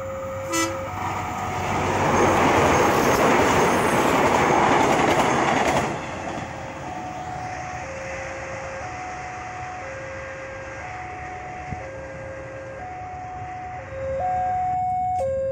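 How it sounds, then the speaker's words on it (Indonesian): YIA airport train passing near Sedayu station in Yogyakarta, a loud rumbling roar with clattering wheels that swells and fades, followed by a steady repeating level-crossing bell and a brief horn near the end. "Kereta api bandara YIA relasi dari bandara YIA sampai dengan stasiun Yogyakarta"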